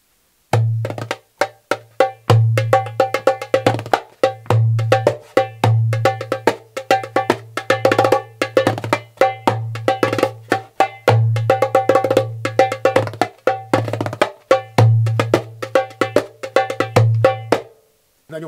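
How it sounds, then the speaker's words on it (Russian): A synthetic djembe made entirely of artificial materials, light and held between the knees, is struck by hand in a steady, fast rhythm of crisp slaps and deep bass tones, loud and close with no talking. "На нем можно играть, как на обычном джембе"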